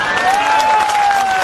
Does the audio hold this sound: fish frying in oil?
no